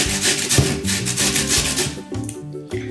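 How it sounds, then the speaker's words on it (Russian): Raw potatoes rubbed against a fine kitchen grater, a close, steady scraping in quick repeated strokes with no voices. "Тру картофель на мелкой терке."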